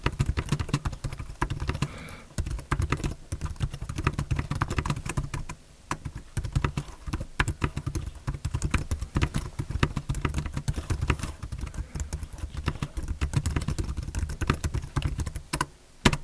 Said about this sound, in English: Typing sound is discreet and pleasant. The key presses have a nice dull thump, and the release sound is dampened and subtle